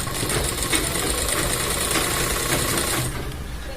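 A sewing machine runs steadily while stitching a shirt placket, a continuous close whirring motor hum with fine rapid needle ticks, easing off near the end.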